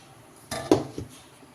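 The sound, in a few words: bowls and pans being handled while making rava cake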